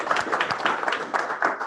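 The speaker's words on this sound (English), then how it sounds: "Give yourselves a round of applause." An audience claps in a short burst of applause after a talk session, a rapid, fairly soft patter of many hands heard briefly.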